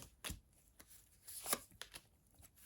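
Soft, quick riffles and taps of tarot cards being shuffled, a few brisk bursts close by with quiet gaps, no voices.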